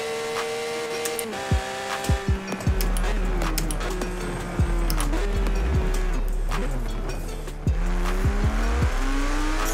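A Porsche 911 GT3 RS in Forza Horizon 4 produces a continuous engine drone with shifting pitch, punctuated by sharp clicks and thumps from a steering wheel and paddle shifters, with tire noise as the car grips.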